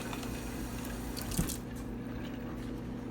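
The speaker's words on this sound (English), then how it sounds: "I'm just going to make some lukewarm water come out of the tap." Lukewarm tap water runs steadily into a jar of lentils, a continuous close splashing wash with a brief louder gush partway through.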